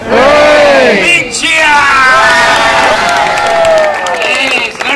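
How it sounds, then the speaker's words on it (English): A crowd of guests at Magic Kingdom cheers for Captain Jack Sparrow, many voices shouting together in loud, close, sustained rounds of hooray that rise and fall over several seconds. "Three cheers! Hip hip! Hooray!"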